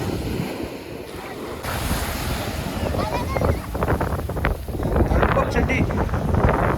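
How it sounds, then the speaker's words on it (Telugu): Strong ocean waves roll and break at Karaikal Beach, a continuous roaring surf with heavy wind buffeting the microphone, loud and close. "అలలు మాత్రం ఫుల్ వస్తున్నాయి."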